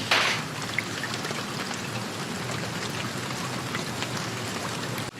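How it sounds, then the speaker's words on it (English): Steady rain falls in Manchester, a dense, even hiss of drops on surfaces that stays loud and constant throughout with no voices. "It's raining in Manchester."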